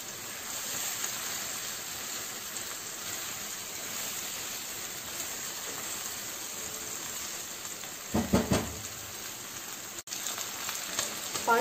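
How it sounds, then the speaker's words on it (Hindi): Chicken pieces frying in a pan for a palak (spinach) chicken curry, giving a steady, close sizzle throughout with a few louder bursts of stirring or spatter near the end. "बस चिकन का कलर चेंज होने तक हम इसको पकाएंगे अभी।"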